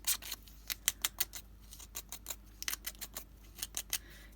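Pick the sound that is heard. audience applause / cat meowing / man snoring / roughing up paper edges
roughing up paper edges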